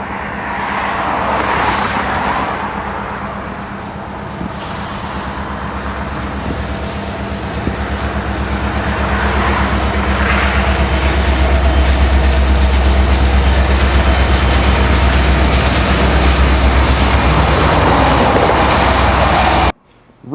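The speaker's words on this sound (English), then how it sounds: "CN 8939 leads a westbound manifest under Industrial Highway in Gary," CN 8939 leads a westbound manifest freight train past under a highway overpass near Kirk Yard in Gary, Indiana, its loud rumble and steady wheel clatter rolling on continuously with a high screeching whine overhead.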